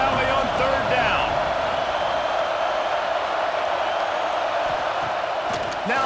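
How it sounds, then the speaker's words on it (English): A big Penn State football crowd in Happy Valley roars on third down against Indiana, a dense, sustained wall of stadium noise with a broadcaster's voice talking over it. "Here comes the noise from this big crowd in Happy Valley on third down."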